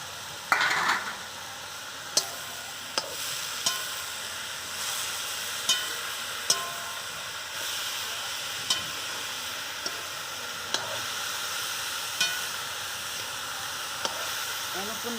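Onions fry in a pan for a dry milk-and-vegetable bhurji, with a soft continuous sizzle and regular light clinks of a spoon stirring against the pan.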